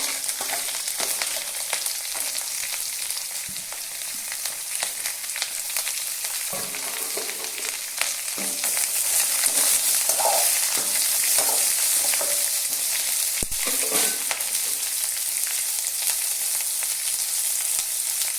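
Chopped onions and green chillies frying in hot oil in a pan for potato puri masala, with a continuous sizzle, occasional stirring scrapes and small pops, growing slightly louder partway through.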